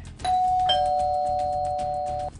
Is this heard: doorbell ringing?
yes